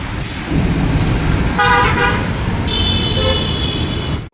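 A passing vehicle rumbles by on the road nearby. Its horn honks in two bursts, a short toot followed by a longer blare, over the continuous engine and traffic noise.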